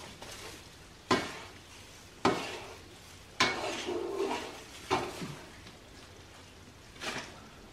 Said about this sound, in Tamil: அப்படியே சிம்மில் வச்சு கிளறிட்டே இருங்க.